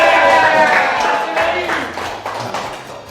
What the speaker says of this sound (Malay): Sila bagikan tepukan untuk pengawal peribadi saya ni